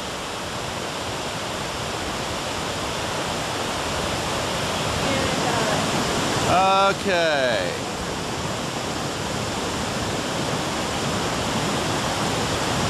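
Floodwater rushes under a cabin porch in Ruidoso during a July flood, a loud, steady roar that continues unbroken throughout, with a brief spoken word partway through.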